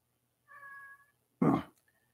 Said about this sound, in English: Let that cat in.